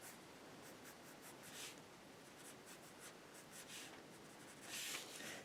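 A pen draws cartoon eyes on paper, making soft, continuous scratching strokes close to the listener, with a few brief louder scrapes and no talking.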